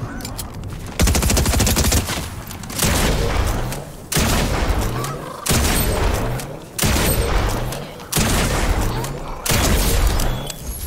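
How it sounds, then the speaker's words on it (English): Video game gunfire: loud repeated bursts of rapid shots, roughly every second or so, each volley cutting off abruptly before the next begins. "Who's shooting at me?"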